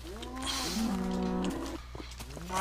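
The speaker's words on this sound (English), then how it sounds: "Got some cows. They're not happy with me because I got beef." Cattle in a video game low repeatedly in a string of drawn-out, tonal moos that overlap into a steady lowing chorus, heard alone over a faint background hum.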